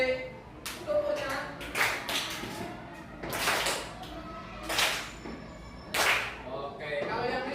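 A group of people in a classroom teaching session clap hands together in about five loud, sharp bursts spaced roughly a second or so apart, with some voices heard between the claps.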